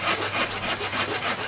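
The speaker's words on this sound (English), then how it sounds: "So I'm sawing down my saw kerf line" A carcass saw cuts a kerf into wood with steady, rhythmic back-and-forth strokes, close and fairly loud, about eight even rasping passes with no talking.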